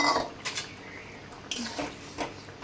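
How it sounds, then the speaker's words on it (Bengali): Fried fish going into boiling sour curry in a pot brings a few brief clinks and splashy scrapes, loud then quieter, set against a faint simmering hiss. "দেখো, টকটা ফুটে গেছে। আগের থেকে ভেজে রাখা মাছটা দিয়ে দিলাম।"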